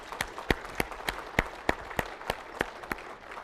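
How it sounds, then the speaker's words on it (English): A small conference audience claps in a sparse, fairly regular pattern, about a dozen distinct sharp claps spaced roughly every third of a second, moderately close and with no talk over them. "Give them a round of applause."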